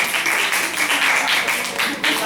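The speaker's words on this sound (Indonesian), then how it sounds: "kasih tepuk tangan dulu untuk kelompok Dina" Classroom students applaud a student group, a dense burst of many hands clapping, steady and fairly loud throughout.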